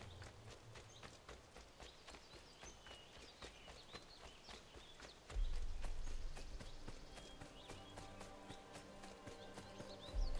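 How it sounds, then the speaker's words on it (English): A horse's hooves clip-clop steadily in Assassin's Creed II, a brisk rhythmic gait that grows louder and closer partway through, with only faint background ambience. "Yay, a horse. We're saved."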